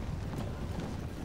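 Cavalry horses move across the field in the Total War: Shogun 2 strategy game, a faint, steady patter of hooves blended with soft rumbling ambience, short and continuous.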